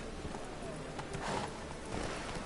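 A horse's hooves clip-clop at a steady trot in The Witcher 3 video game, a soft repeated rhythm set inside a busy game soundscape.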